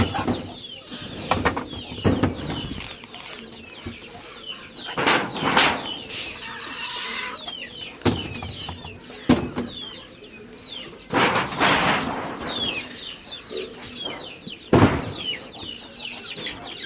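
Chickens let out of their coop in the morning cluck and call repeatedly, with scattered bursts of wing flapping and a few louder squawks, close by and fairly busy throughout.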